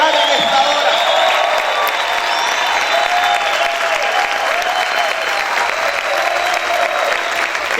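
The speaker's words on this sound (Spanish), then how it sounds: "¿Cuántos pueden aplaudir?" Sustained applause from a church congregation fills the room, a thick unbroken clatter of many hands with scattered cheers and voices mixed in.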